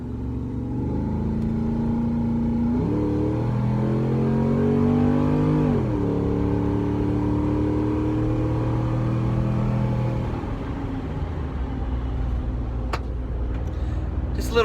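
Race car with a repaired exhaust header accelerating on a road, heard from inside as a loud engine climbing through a few gear pulls, each rising in pitch, then easing off into a lower cruise with faint clicks near the end.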